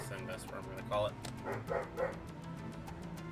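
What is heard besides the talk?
dog barking and whimpering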